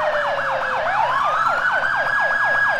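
A police siren left stuck on after the driver exits the car in GTA IV with LCPDFR wails loudly and close, rapid rising-and-falling yelps sweeping into a long steady tone and then back to quick cycling, with no talk over it.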